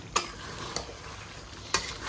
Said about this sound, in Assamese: ধুনীয়াকৈ 20 মিনিটমান মাংসখিনি ভাজি আছিলোঁ আমি কম গেছত